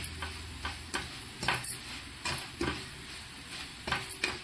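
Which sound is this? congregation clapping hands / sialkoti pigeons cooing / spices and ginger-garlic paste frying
spices and ginger-garlic paste frying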